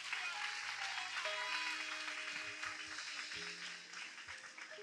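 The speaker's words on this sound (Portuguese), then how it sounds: "Você pode aplaudir bem forte o nome de Jesus agora?" A church congregation applauds loudly and steadily at a Brazilian evangelical service, the dense clapping filling the whole stretch while sustained organ or keyboard tones and a few low thumps sound beneath it.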